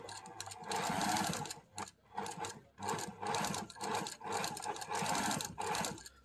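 A Singer 875 Facilita sewing machine that has a feed problem stitches in loud, close, steady mechanical runs. Brief pauses break up the bursts, and no one speaks over them.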